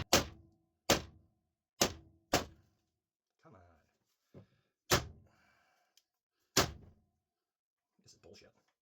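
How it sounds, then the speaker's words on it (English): A bullet puller is hammered hard against a desk to free a bullet: a series of sharp, loud, close wooden thuds at uneven intervals, with faint muttering between some of the blows. "after some hard freaking hits and breaking my desk, still got that bullet out."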